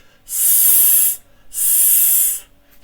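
A voice imitates a snake's hiss with two sustained, close, loud "shh" sounds separated by a short pause, as in a children's story about speech sounds.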